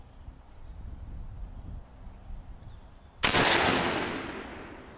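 A 12 gauge air rifle fires once outdoors at a 65-yard target, a single sharp, loud blast that trails off in a long fading echo over quiet background hiss.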